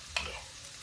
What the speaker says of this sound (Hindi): अभी मसाले भून देते हैं।